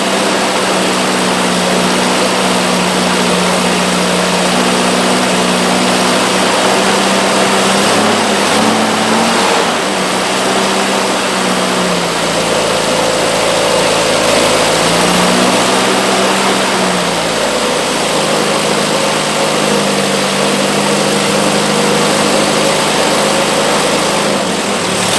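A Triumph Spitfire engine runs close by, idling unevenly with a few rises and dips in revs, loud and continuous throughout.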